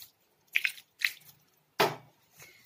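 Leftover cooked rice kneaded by hand into roti dough with sprinkled water, giving three short, wet squishes and squelches, close and fairly quiet, with silence between them.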